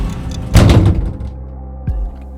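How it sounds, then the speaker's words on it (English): A door shuts inside an ice cream truck with one loud, close thud, followed a moment later by a softer knock, and no voices. "he shut the door behind us."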